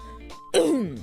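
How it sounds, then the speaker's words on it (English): A single sharp throat-clearing cough close into a microphone, a brief rough burst after a quiet moment, with no talk. "I keep coughing into the mic"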